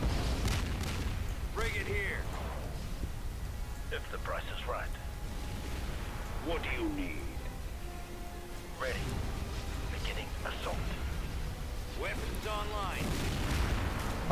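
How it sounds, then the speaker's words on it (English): Repeated booming explosions and gunfire-like blasts rumble continuously, with brief voice-like chirps and effects scattered through a dense, loud game soundscape. "lots of explosions going on here"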